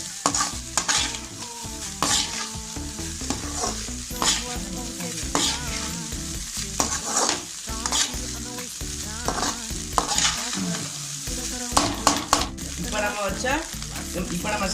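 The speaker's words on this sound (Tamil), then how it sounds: "இப்போ தான் ரைஸ் நல்லா லைட்டாக ஃப்ரை ஆகும்." Chicken fried rice sizzles loudly over a full flame while a ladle stirs and scrapes the pan in brisk, repeated strokes, close up and continuous with no voices.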